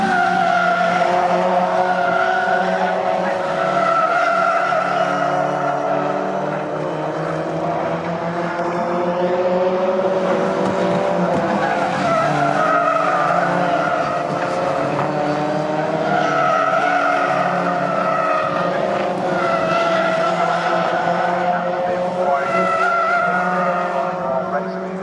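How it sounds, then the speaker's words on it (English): Ginetta Junior race cars circling at Snetterton during a championship race, engines droning continuously with tyres squealing and skidding through corners, loud and steady for the whole stretch while a commentator talks over it. "Certainly a tyre screeching from somewhere"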